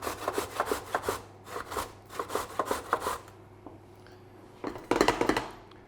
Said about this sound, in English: with the carrot, we're going to grate it coarsely on here. So just using a box grater